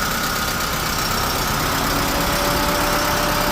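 A 2012 Hyundai Accent CNG/petrol engine runs with the air conditioning on, a loud, steady, broadband roar with a faint high whine and no pauses.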